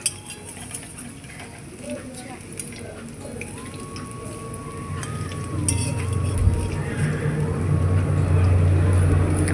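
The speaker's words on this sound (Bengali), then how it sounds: "উল্টে পাল্টে করে লাল লাল করে আমি ভেজে নেব।" Fritters made with fish oil sizzle in a pan after being turned over, a steady close frying hiss that grows gradually louder, with light scraping and a utensil clink, no one speaking.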